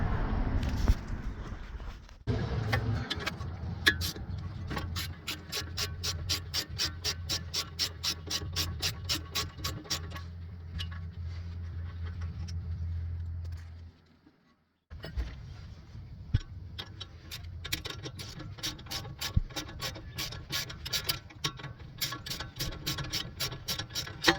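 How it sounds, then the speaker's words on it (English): Brake caliper nuts being removed from a Chevy Camaro with a hand ratchet, long runs of rapid, even clicking close by, pausing briefly mid-way, then resuming. "So we're gonna remove both of those nuts first."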